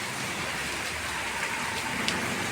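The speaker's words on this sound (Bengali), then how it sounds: "এই যে বৃষ্টি এখনো পড়তেছে, আকাশ মেঘলা" Rain keeps falling under a cloudy sky in Bangladesh, a continuous, even patter with occasional nearer drips, and no voices.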